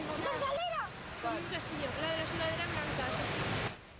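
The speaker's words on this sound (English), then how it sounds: "Look at that wall of water" Floodwater rushes through a Spanish street during strong storms, a broad, steady roar of churning water while a person talks over it, before the sound drops away at the end.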